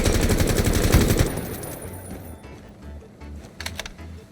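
Gunfire in the mobile tactical shooter Rainbow Six Mobile: a dense, loud burst of rapid automatic shots for about a second, then sparser, fainter shots and scattered game effects.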